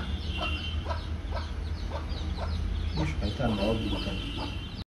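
Chickens cluck repeatedly outdoors in short, scattered bursts at moderate distance, with people talking in the background.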